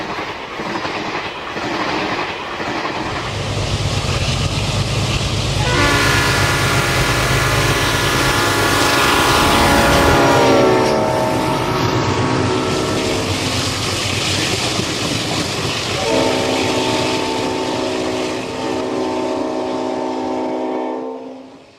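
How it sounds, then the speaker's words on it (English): A Santa Fe San Francisco Chief passenger train led by an AABBA set of F7 diesel locomotives roars past at close range, its loud chorded horn sounding in two long blasts over heavy engine rumble and wheel clatter. "An AABBA set of F7s leads San Francisco Chief Train number 2 past the east end of Mormon"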